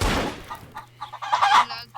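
Clucking chicken calls in a Roblox horror game, a few short squawky bursts after a low rumble, with a steady low hum underneath.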